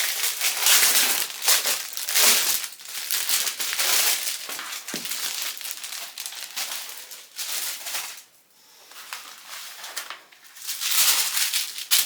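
Tissue paper crumpled and crinkled by hand while an order is packed, in repeated close, crisp bursts with brief pauses between them.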